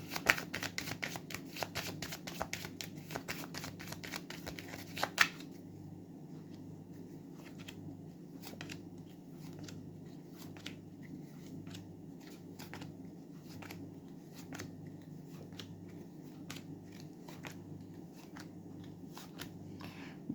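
Cards are riffled in a quick burst of rapid flutters, followed by a steady low hum with scattered soft ticks and taps.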